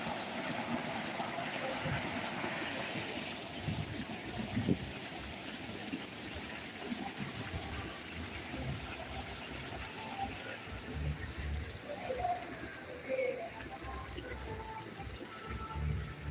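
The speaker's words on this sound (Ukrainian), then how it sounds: "насправді це просто водоспад, там немає нічого" An artificial waterfall in a grotto pours continuously, a steady rushing splash heard nearby with faint background murmurs and shifting noise.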